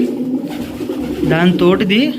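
A pet pigeon coos in a home loft where the birds have been laying eggs, giving a few soft, throaty rising calls near the end over a steady low background, with what may be a voice mixed in.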